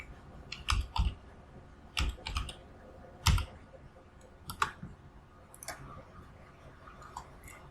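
Typing on a computer keyboard, with irregular clusters of crisp key clicks and a few heavier taps spread across a quiet background, close and without speech.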